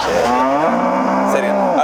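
A cow at a cattle market in Chinthamani gives one long, loud, close moo. It holds steady for nearly two seconds, with no talk over it.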